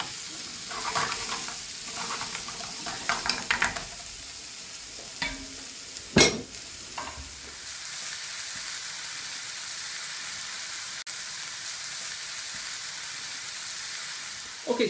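Garlic and vegetables sizzle in a pan for a classic French ratatouille, with a steady hiss and intermittent stirring knocks and scrapes that are loudest early on, then settle into a continuous, moderate frying crackle.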